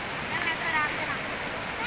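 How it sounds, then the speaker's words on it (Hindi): A cold, fast river fed from the Siachen area rushes past close by, a steady broadband watery hiss and gurgle with faint voices in the background. "ये दरिया चल रहा है,"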